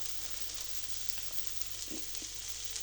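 Food sizzles in a grill pan with no oil, a steady close hiss with a few faint clinks, and no voices.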